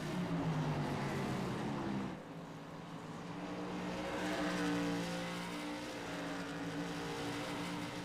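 Whelen Modified race cars at Southern National Raceway roar past in a loud, steady engine drone with shifting pitch as the field circles, briefly dipping before building again near the track.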